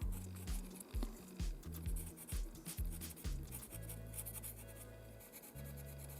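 Pencil strokes sketch the outline of an animal's eye and iris and then short fur marks, close and quiet, with a steady run of scratchy rubbing and brief pauses between strokes.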